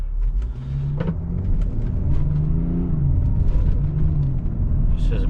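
A tuned BMW X5 35d diesel in sport mode accelerates, its engine note rising in steady rumbling pulls heard from inside the cabin, with someone talking over the drone.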